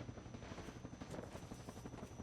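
A helicopter in a video game flies close by with a continuous, fluttering rotor chop that stays steady and fairly quiet throughout.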